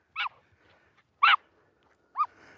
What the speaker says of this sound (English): bark has got a bit more high pitch